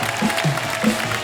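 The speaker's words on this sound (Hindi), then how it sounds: "NRI वाइफ्स के लिए एक बार जोरदार ताली।" A studio audience on a Hindi comedy talk show gives a brief burst of dense, steady clapping, loud and close, with faint vocal sounds mixed in.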